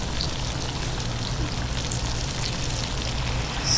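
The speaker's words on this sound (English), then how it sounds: "I'm going to pour in a little bit of white wine for some extra" Shrimp scampi sizzles steadily in a hot pan as white wine is poured in, a dense, even frying hiss that holds at close range and swells slightly at the very end.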